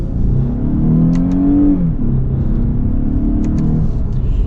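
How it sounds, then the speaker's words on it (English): A 2020 Lexus GS 350 F Sport with a six-speed automatic accelerating hard, a loud steady engine drone rising in pitch, dipping briefly at a gear change and then climbing again, heard from inside the cabin. "We're going to be getting our acceleration here."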